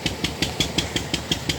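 A Peter diesel engine drives a jhalar, a Persian-wheel style irrigation water lift with wooden slats, in place of oxen, thumping steadily at about five or six beats a second, close and alone.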